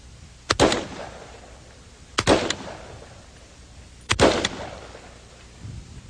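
A semi-automatic hunting rifle fires three single rounds, each a sharp loud crack with a rolling echo, spaced about two seconds apart outdoors, with a faint fourth thump at the end.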